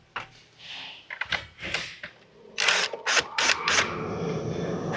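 Small screws being backed out on a 2021 Genesis GV80 while removing four screws during side camera repair: mechanical clicks and a ratcheting burst, then several sharp close clacks and a steady rasp of tool work, with no talking.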